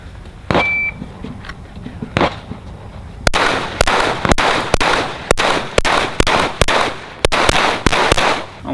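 Rifle gunshots at an outdoor shooting range, on a rifle fitted with a Radian Ramjet and Afterburner: a few scattered sharp cracks, then a quick rhythmic string of about eight loud, close reports.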